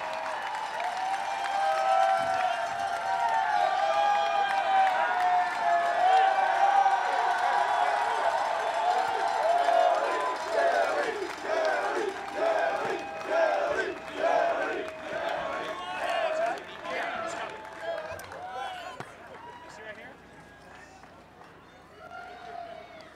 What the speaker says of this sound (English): a big round of applause for Rob Tillotson